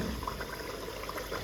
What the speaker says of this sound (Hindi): अब मैं इसमें बिल्कुल थोड़ा सा पानी ऐड कर रही हूँ।